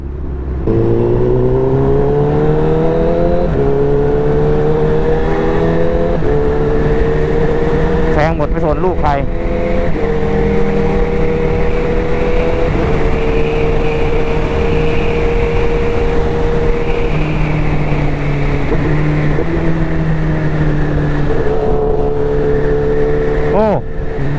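A Honda CBR1000RR motorcycle rides through heavy Bangkok city traffic on the Sathorn to Rama 9 route, its engine a loud, steady, close drone whose pitch rises and drops through the gears, with brief blips along the way.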